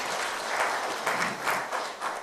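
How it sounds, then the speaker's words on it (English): Audience applause at a ceremony commissioning a customs service headquarters in Nigeria, a dense, continuous wash of many hands clapping, steady and moderately loud throughout. "Please a round of applause for the CGC."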